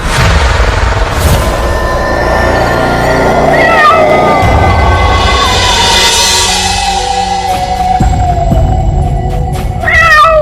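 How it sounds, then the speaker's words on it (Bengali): A cat meows repeatedly, loud and drawn-out, over a dense rumbling background with effects. "হঠাৎ শুনতে পেল বিড়ালের ডাক।"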